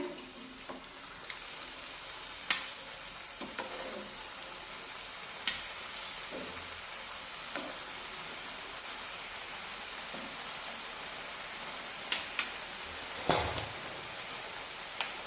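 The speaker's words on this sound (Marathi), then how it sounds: "आता तेलामध्ये आपण एक एक चकली तळून घेऊया" Chakli, crisp spiral snacks, frying in hot oil, a soft, rain-like bubbling hiss with scattered sharper crackles and a few clunks, close but quiet, without talking.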